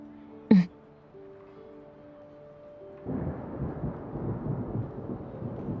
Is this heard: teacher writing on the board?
no